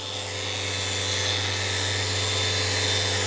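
A Festool Rotex sander runs steadily on wood with a close, continuous high whine and a low hum, sanding through fine grits.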